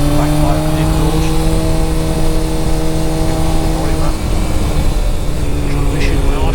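Honda CBF 1000 motorcycle exhaust, a loud steady engine drone with strong low harmonics and a slight dip in pitch partway through, heard close up while riding.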